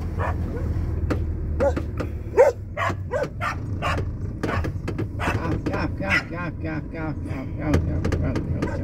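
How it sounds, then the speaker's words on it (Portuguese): Dogs bark in sharp repeated bursts at a moderate distance, over steady background noise with occasional voices. "Cachorrada que não se pode nem andar."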